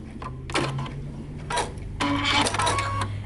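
A sewing machine backstitches T-shirt fabric in short bursts of rapid mechanical stitching, three runs separated by brief pauses, close and clear with no talking.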